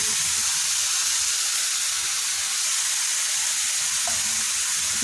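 Chopped beans hit a hot frying pan for a potato-free veg cutlet, giving a steady, loud, even sizzle with bright hiss throughout and no voices.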